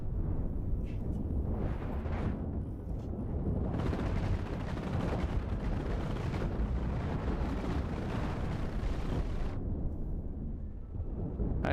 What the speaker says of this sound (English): Look at all these missiles coming in all these different weird.